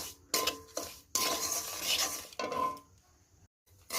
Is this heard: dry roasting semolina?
yes